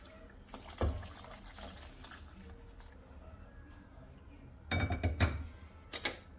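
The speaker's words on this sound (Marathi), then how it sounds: "यामध्ये मी गरम पाणी टाकणार आहे" Hot water is poured into cooked dal in a pot, with a few clattering bursts of metal utensils and soft liquid splashing standing out against quiet kitchen background noise.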